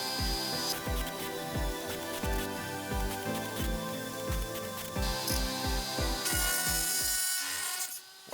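A CNC machine's bit skips off an aluminum bracket workpiece after poor homing, producing a rapid series of harsh, regular knocking hits over grinding noise, loud and close, stopping abruptly at the end.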